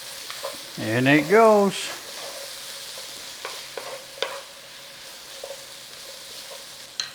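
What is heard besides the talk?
garlic frying in a pan for braised steak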